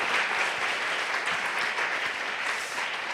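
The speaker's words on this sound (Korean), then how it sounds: "한번 박수할까요? 잘 왔다고." A church congregation at a Friday evening praise and prayer service claps together, producing a sustained, dense round of applause that holds steady throughout without speech over it.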